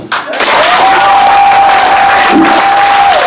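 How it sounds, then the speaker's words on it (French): A crowd at a rally for Blé Goudé bursts into loud applause and cheering after a brief pause, the clapping close and dense, with a sustained whistle or shout ringing over it and voices mixed in. "Applaudissez ça."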